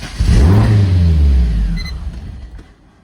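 A car engine with flooded cylinders cranks and roars with the throttle held fully down, giving a loud, close, strained surge of revving that swells, then sags and fades away over a few seconds.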